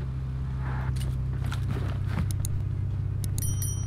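Vehicle engine in the PUBG Mobile battle-royale game, a steady low droning hum running throughout, with a few faint clicks and scrapes over it and no talk.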